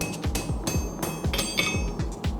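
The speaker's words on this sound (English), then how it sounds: "Rest it on here, smack the shit out of it with the hammer." A hand hammer beats hot metal flat on an anvil during blacksmith forging, a quick run of about ten sharp, ringing strikes at a steady rhythm, close and clear.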